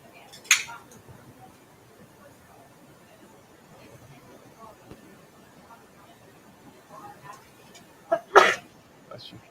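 A single sharp sneeze in a quiet meeting room at a school board meeting, followed later by a second louder sneeze, with faint room murmur between.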